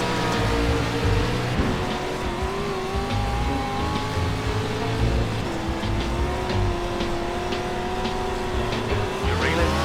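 Race car engine droning and revving in the iRacing sim during a Pro 2 Rookie Series race, with rising and falling engine pitch through gear changes and faint tire squeal, steady and loud with no talk.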